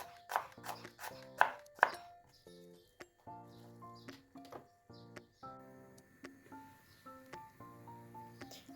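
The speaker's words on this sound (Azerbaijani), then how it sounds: "Ona görə çalışın ki, soğanları biraz nazik doğrayasınız." Knife chopping fresh onions thinly on a board, a series of crisp, close cuts with quick bursts early on, then a slower, steady rhythm of lighter taps, no talking.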